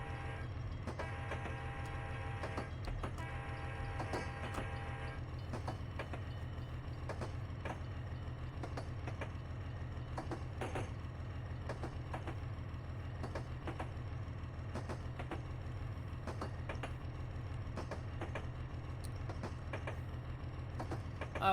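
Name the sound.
freight train running, from a train simulator video game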